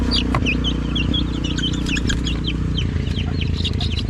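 A group of young chicken chicks in a poultry brooder, peeping constantly in dense, high, chirping overlapping calls over a steady low background hum, close and fairly loud.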